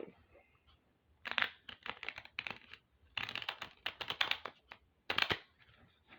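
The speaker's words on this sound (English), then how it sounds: "I'm going to do one more shuffle and then we'll cut the deck." Crisp riffling and clicking bursts of a large deck of cards being shuffled close by, in several quick runs separated by short pauses.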